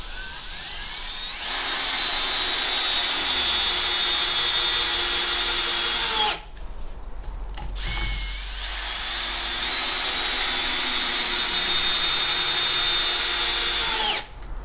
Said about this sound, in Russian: Первая скорость, режим сверления.